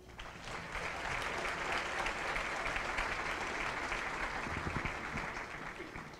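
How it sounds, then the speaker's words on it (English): A seated audience at an annual university economic forum gives a round of applause, a broad, even roar of many hands clapping from a distance, sustained for about six seconds and easing off at the close. "Give them a round of applause."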